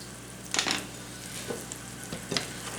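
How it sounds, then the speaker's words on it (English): Flour-dusted hamburger steaks fry in a hot skillet, a soft constant sizzle with a few brief spatter pops and light scrapes scattered throughout. "Then we're just going to cook them until they're golden, a little bit golden on both sides."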